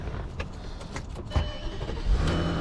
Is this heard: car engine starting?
yes